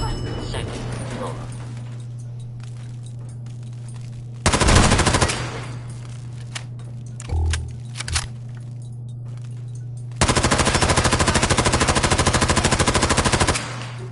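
Gunfire in the video game Fallout 4: a short loud burst of automatic fire, a couple of isolated thumps, then a longer rapid sustained volley over a steady low background hum.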